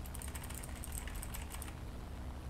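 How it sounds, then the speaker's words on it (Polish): Quiet, rapid clicking of keys on a mechanical Logitech G513 keyboard, a steady run of light taps over a low background hum that stops partway through. "sprawiłem sobie nową klawiaturę. Też mechaniczną, ale tym razem kupiłem sobie też Logitecha G513"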